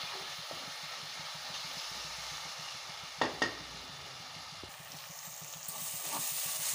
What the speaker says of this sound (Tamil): தக்காளியை நல்லா வதக்கிக்கோங்க.